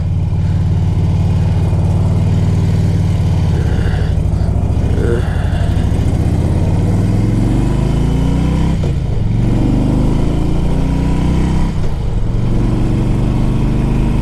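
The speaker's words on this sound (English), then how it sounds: "It's a cold day, it's a cold bike, but it just fires right up." A 2004 Harley-Davidson Road King Custom with fuel injection fires up on a cold day and idles, a loud, close, steady low rumble with a few throttle blips that sweep the pitch up and back down.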